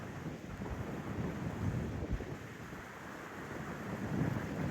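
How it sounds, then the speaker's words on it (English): Wind gusts across a mountain trail on the Appalachian Trail, a low rumbling buffet of wind noise on the microphone that stays fairly steady and moderately loud throughout. "Look at the wind."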